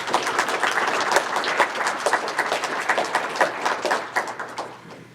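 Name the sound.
audience applause at a public meeting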